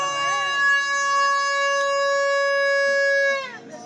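At a crowded temple fair, a toy horn sounds one long, steady, bright blast lasting several seconds before cutting off, preceded by brief voices in the busy surroundings.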